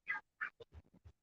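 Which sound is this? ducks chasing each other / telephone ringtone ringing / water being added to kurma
ducks chasing each other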